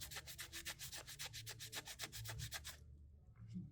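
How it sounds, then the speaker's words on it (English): A wet cloth rubs across a concrete surface, sanding it down in a quick series of about a dozen rhythmic scraping strokes, close and fairly quiet, before stopping abruptly. "I'm basically sanding it down with a cloth"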